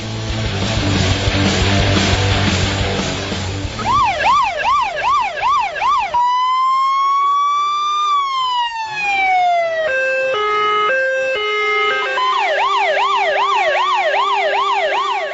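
A loud Volvo fire engine siren cycles through rapid yelps, high-low tones and long rising and falling wails, close and continuous, following a stretch of heavy rumbling noise.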